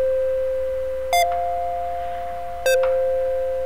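Synthesizer notes in Ableton Live sustain as steady electronic tones, shifting pitch twice with bright attacks, each ending in a slow 1.5-second release that fades out gradually, with no talking.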